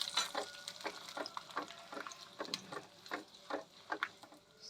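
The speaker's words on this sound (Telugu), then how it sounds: "తాలింపు అయితే ఇలా కలర్ చేంజ్ అయిపోయింది కదా, ఇప్పుడు కొద్దిగా కరివేపాకు కూడా వేసేసుకొని స్టవ్ ఆఫ్ చేసేస్తా." Tempering of curry leaves frying in a hot pan for a mint and green chilli chutney, a quiet crackling sizzle with rhythmic stirring taps and scrapes repeating through the clip, no talk.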